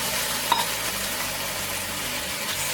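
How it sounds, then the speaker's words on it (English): Onions and garlic sauté in a pan for fried rice, giving a steady, even sizzle of frying throughout with one small clink near the start. "now that they're starting to soften, I'm gonna add a little bit of garlic in here"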